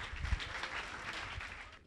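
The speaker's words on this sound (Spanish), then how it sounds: "Por favor, lo recibimos con un fuerte aplauso." An audience at a business conference bursts into applause to welcome a speaker, a short, dense wash of clapping heard from a distance that fades out within two seconds.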